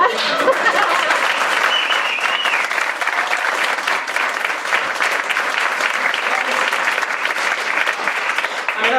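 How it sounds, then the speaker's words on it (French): Theatre audience giving an actress an ovation, sustained dense applause from a large crowd, steady and loud for the whole stretch. "afin que le public ici présent vous fasse une ovation"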